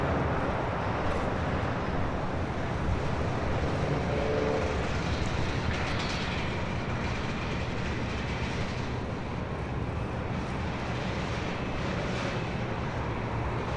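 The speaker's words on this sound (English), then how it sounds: "Norris is coming in from London Gatwick on the Dreamliner" A Boeing 787 Dreamliner arriving at LAX on runway 25 left after a flight from London Gatwick gives a steady, broad roar that holds at constant loudness throughout, with no voices.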